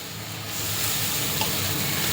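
Capsicum and cabbage frying in a pan for chicken fried rice, a steady loud sizzle that swells after the first half second and stays dense and hissing, with faint stirring scrapes and no talk.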